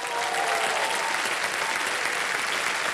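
A studio audience claps for a contestant on the KBC quiz show, steady, full applause from many hands sustained for three seconds, fairly close and even throughout.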